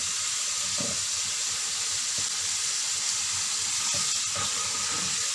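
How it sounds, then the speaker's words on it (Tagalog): Spinach is rinsed under a running tap, giving a steady hissing gush of water with a few faint knocks and splashes, moderately close and without voices. "Hugasan natin siya ng tatlong beses."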